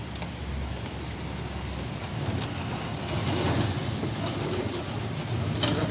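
Steady rain falling outdoors in a wide, even hiss that swells slightly partway through, with a low rumble underneath and no voices.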